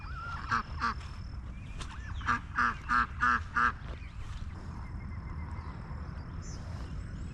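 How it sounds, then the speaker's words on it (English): A duck quacks in a short series of nasal calls, several in quick rhythm, over steady outdoor background noise on a golf course. "Your sad little duck noises."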